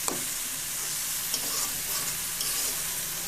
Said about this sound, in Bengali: এটা আমি ভালো করে একেবারে ভেজে নেবো তাহলে সুন্দরভাবে গলে যাবে